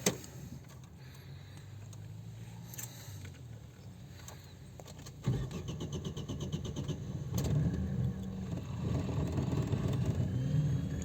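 Ignition turns over a car engine that catches and runs rough and shaky, then revs up and falls back in uneven bursts, loud and close with no voices.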